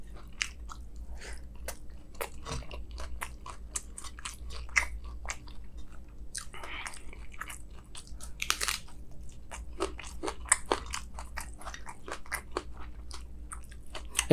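Someone bites and chews crunchy local prawns from a spicy curry, close-miked: a steady stream of sharp crunches and wet mastication clicks over a low constant hum, with no talking.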